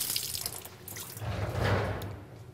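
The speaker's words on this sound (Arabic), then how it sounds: "حنان لحظة لحظة لحظة، شو عم تشرب من الحنفية" Water running from a kitchen tap, a continuous splashing hiss with a low rumble that swells in the middle, close by and steady, with no talk over it.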